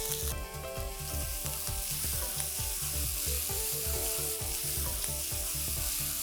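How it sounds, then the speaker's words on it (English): Chopped red onions sautéing in hot oil over a high flame, a loud, dense, steady sizzle with a rhythmic low thumping beneath, close up and uninterrupted. "While the onions are getting sauteed, let's lower the flame"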